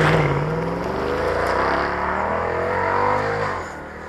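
A car driving past on a road, engine tone sweeping and shifting in pitch as it approaches and passes close by, loud and steady before trailing off at the end.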